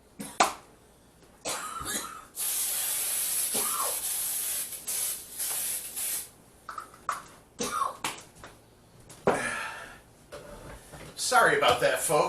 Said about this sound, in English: I had to start the griddle and get it greased up